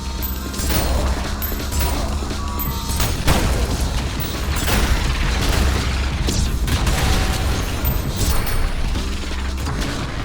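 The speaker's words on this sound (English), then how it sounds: "By default, you have a charge shot secondary fire" A revolver charge shot from the fast shooter ULTRAKILL cracks out amid dense, loud game action, with booming impacts, mechanical clanks and a sharp burst near the middle over a constant low rumble.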